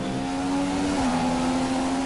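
A McLaren Honda Formula One car engine at Silverstone in F1 2015 holds a steady, loud high-revving whine close by, with its pitch dipping slightly midway before settling back.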